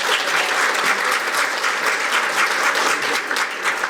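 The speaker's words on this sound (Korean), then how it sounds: "국방반도체 자립을 위한 정책과 입법을 총괄하며 방산혁신을 주도하고 계신 성일종 국방위원장님 큰 박수로 환영해 주시기 바랍니다." Sustained, dense applause from an audience welcoming a guest at a Korean defense semiconductor policy event, steady and fairly loud throughout.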